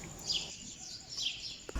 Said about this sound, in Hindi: इतनी खामोशी में सिर्फ चिड़ियों की आवाज़ आ रही है